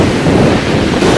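Roaring waterfall heard from behind the falling water on Iceland's south shore, mixed with wind buffeting the microphone: a loud, dense, continuous wash of noise with no pauses.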